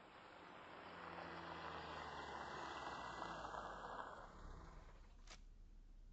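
Car engine and road rumble as a vehicle slows and comes to a stop, a broad steady roar that eases off toward the end, followed by a brief sharp hiss.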